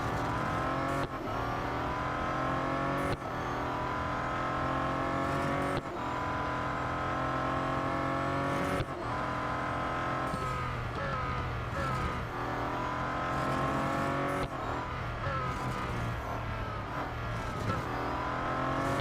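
Race car engines in the Real Racing 3 video game drone continuously and loudly, with repeated shifts and rises in pitch as cars accelerate and pass, and no speech.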